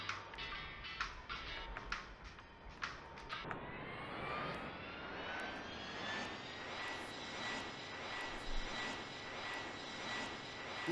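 Aircraft engine in a video game, a steady droning hum that rises in pitch and holds as the plane powers up, following a few sharp clicks at the start.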